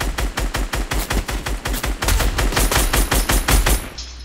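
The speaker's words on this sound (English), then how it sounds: "He's shooting back at us." Rapid bursts of automatic gunfire from an enemy in a shooting video game, a steady string of loud close shots fired in quick rhythm for about three and a half seconds, then cutting off abruptly.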